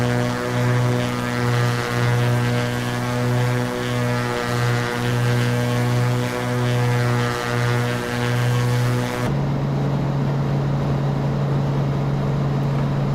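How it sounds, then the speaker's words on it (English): The engine of a Cessna C210 in a flight simulator video game drones steadily and loudly with a propeller hum, its pitch and tone shifting abruptly partway through. No voices are heard. "Is the plane especially loud for you guys?"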